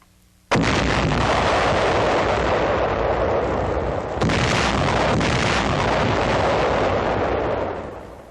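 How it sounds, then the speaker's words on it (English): Wooden box anti-tank mines are destroyed in a secluded area in 1945, erupting in a huge sustained roar that starts abruptly, swells again midway and rumbles for several seconds before tapering off. "The mines are carried to a secluded area and then destroyed."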